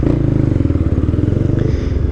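A Honda Twister motorcycle with a sport G-Moto exhaust and no air filter idles loud and close, its engine pulsing in a rapid, uneven thump with a slight rev near the end.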